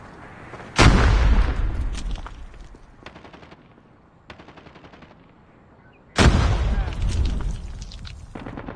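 Two heavy booming blasts from a grenade in a first-person shooter round, each a sudden loud burst with a long rolling tail, separated by quieter rapid gunfire bursts in between.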